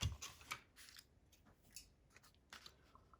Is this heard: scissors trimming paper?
yes